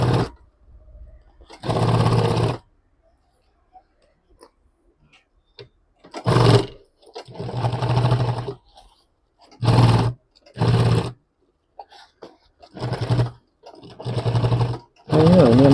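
A sewing machine runs in several short bursts while stitching piping onto a crossbody bag, each run a loud whirring roar separated by silent pauses.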